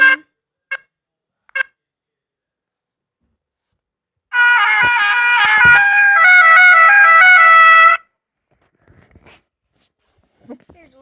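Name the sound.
air horn sound effect from the Friend Air Horn game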